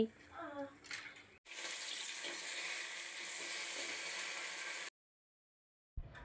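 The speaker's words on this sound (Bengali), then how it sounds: "এদিকে মাছ ভাজাতে হচ্ছিল" Fish frying in a pan in a home kitchen gives a steady, loud broadband sizzle for about three and a half seconds, then cuts to silence, with brief voices and clatter before it.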